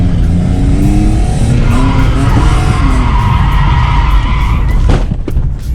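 A car drifting hard on a city street, its tires squealing and skidding loudly and continuously for several seconds, with the engine roaring throughout and a short thud near the end as it strikes the curb.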